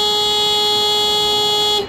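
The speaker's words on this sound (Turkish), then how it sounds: "Bunun ismi kapılara duyarlı hırsızlık alarmı." A loud, steady electronic alarm tone from a Renault Fluence door-triggered burglar alarm sounds continuously, then cuts off abruptly near the end.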